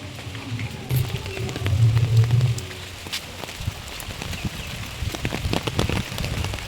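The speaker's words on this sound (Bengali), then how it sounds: "তো দেখো কি জোর বৃষ্টি হচ্ছে।" Heavy rain pours down steadily outdoors, a dense continuous hiss with scattered louder drops and a low rumble swelling early on.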